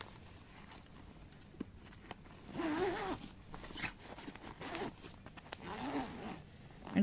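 A zipper drawn shut on a fabric blouse storage bag holding readymade blouses, a few short ripping pulls spread across the clip, close and fairly quiet, with no talking.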